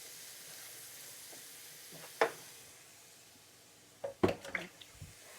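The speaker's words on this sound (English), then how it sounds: "So let's cook the mushrooms." Finely chopped mushrooms frying in butter, a faint steady sizzle underneath, broken by a sharp clatter and then a burst of louder stirring scrapes near the end, close and without talk.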